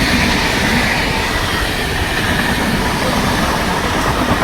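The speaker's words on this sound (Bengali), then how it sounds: "এই যে ট্রেন যাচ্ছে" A train on the Dum Dum to Belgharia line rumbles past beside a pond, loud and close, a dense steady roar of wheels and carriages filling the whole stretch without a break.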